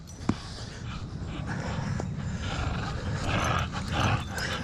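A dog barks and yips in short bursts nearby, with some movement and background noise in between.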